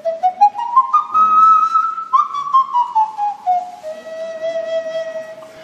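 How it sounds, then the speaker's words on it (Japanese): A bright, pure whistling tone from a nose flute, gliding up in steps, holding a high note, then sliding back down in a smooth melody. "この手の鼻笛はブラジルは発祥だって言われてます。"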